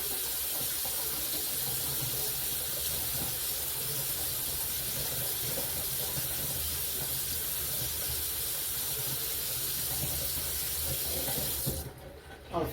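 Water drains steadily from a kitchen sink, a continuous rushing hiss that holds for about twelve seconds and then cuts off abruptly near the end.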